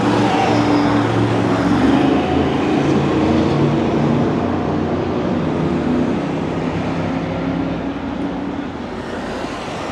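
1980s cars drive along a San Fernando Valley street during a film shoot, their engines and tyres making a loud, continuous rumble that eases off slightly toward the end.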